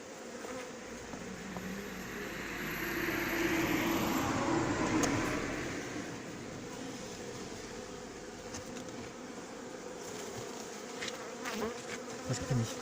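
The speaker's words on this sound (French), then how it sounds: "Quand tu as des abeilles partout comme ça" A swarm of honeybees hums and buzzes continuously while being hived from Savigny-le-Temple to Montigny-sur-Loing, a dense, close outdoor drone swelling and easing, with occasional nearer passes over steady background noise.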